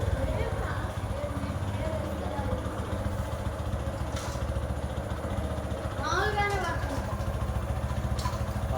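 A motorbike idles with a steady low chug close by, with a light clatter as the gear is shifted, while voices talk over the engine.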